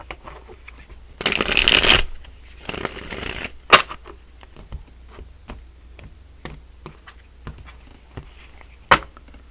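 Oracle cards shuffled in a loud riffling burst, then a second softer shuffle, followed by scattered light taps and clicks as cards are handled.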